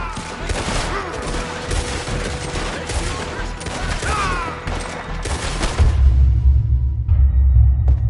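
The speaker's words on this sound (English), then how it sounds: "We're overrun! Just keep shooting!" Dense battlefield gunfire, a sustained fusillade of rapid overlapping shots and bursts with rumbling booms, loud and continuous throughout, heavier low rumble near the end.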